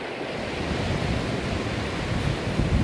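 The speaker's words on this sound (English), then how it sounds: "The waves are absolutely awesome today." Ocean waves breaking on a beach and over rocks at Porto Covo, a steady loud roar of surf with wind rumble, continuous and close, no talk.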